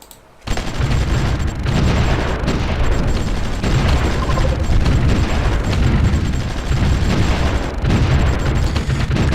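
Continuous rumbling bombing explosions from the strategy video game Supreme Ruler Ultimate, a dense, loud barrage of booms and blasts that starts abruptly and runs unbroken throughout with no talking.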